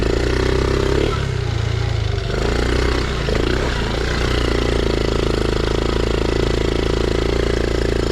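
A Honda Z50R dirt bike's small engine idles on choke while cold, a close, steady, low putter with slight uneven bogging, running continuously throughout.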